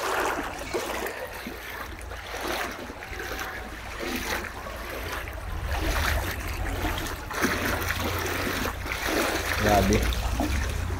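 Knee-deep flood water in Roxas, Oriental Mindoro, sloshing and splashing steadily as someone wades through, with a low rumbling wash throughout and people talking over it.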